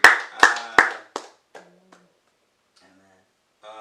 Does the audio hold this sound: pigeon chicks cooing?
no